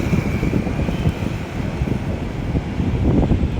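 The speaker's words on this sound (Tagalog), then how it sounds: "Lakas ang hangin" Strong wind roars outdoors near a Skyway construction section on Paco Road, a dense continuous low buffeting rumble against the microphone with no talking, steady throughout.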